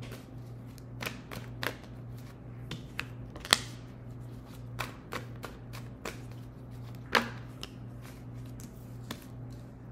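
Tarot cards shuffled by hand in a quiet room, giving a run of soft, irregular riffling clicks and snaps over a steady low electrical hum, with no talking.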